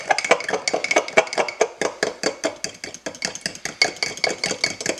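Couscous salad with a dill dressing being stirred in a bowl, giving a quick, steady run of clinks and scrapes that are close, moderately loud and heard alone.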